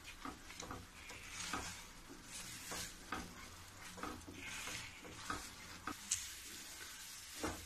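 Khoa thickened from milk is stirred with sugar syrup in a pan, a steady wet scraping and churning with soft sizzling, repeated strokes close up and without talk.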